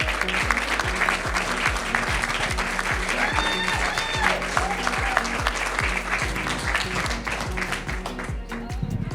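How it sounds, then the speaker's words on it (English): Audience applause at a live academy telethon: a full, steady wash of clapping from a crowd, close and loud, tapering slightly at the end, with a low rhythmic thump and faint voices underneath. "So let's give them a round of applause."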